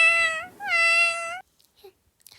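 A cat gives two drawn-out meows up close, one right after the other, followed by near silence with a few faint small noises.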